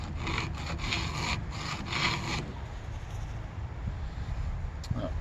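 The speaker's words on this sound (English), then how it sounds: "I'm only filing until the burr comes across the top." A hand file rasps across chainsaw chain teeth during sharpening, with quick rhythmic strokes at first, then a steadier rubbing scrape, close and fairly quiet, with no talking.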